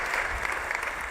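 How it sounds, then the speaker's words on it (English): A conference crowd at a summit gives sustained applause, a continuous wash of many hands clapping at moderate volume, heard briefly without speech over it. "please let's give him a huge round of applause"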